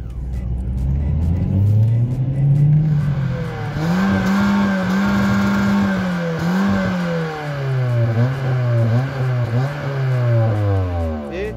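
A Seat Cordoba car engine runs loud and close, its tone rising and falling in repeated revving surges as the pitch sweeps up and down, with no talking.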